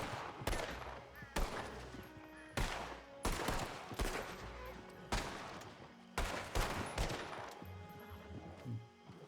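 Rapid gunfire in a Red Dead Redemption 2 roleplay game, with several loud bursts of sharp shots arriving in uneven clusters over a steady background.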